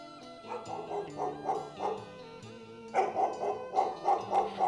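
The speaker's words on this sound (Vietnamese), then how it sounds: "Tiếng chó sủa đánh động tới những con chó nhà hàng xóm hai bên đường" A dog barks repeatedly in a quick rhythmic series, fairly close and loud, used as a sound effect in a narrated ghost story, with a sustained musical drone beneath and no talk over it.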